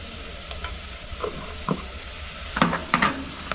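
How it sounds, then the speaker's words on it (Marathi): Malvani masala roasts in hot oil for a Konkani-style brinjal bharit. A quiet sizzle sits under soft, scattered scrapes of a stirring spoon, close by and without talk. "आता थोडासा घालते म्हणजे तो तेलामध्ये थोडासा भाजेल"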